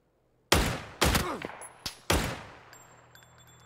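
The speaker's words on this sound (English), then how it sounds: "so he's shooting at somebody" Gunfire in a PUBG match: a few sharp shots spaced about half a second apart, fairly distant and moderate in level, each trailing off with a short echo over a quiet backdrop.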